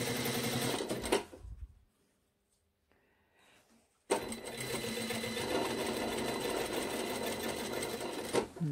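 Sewing machine stitching a seam on a blazer, a fast continuous mechanical whir that runs, stops for a few seconds of near silence, then starts again loud and close.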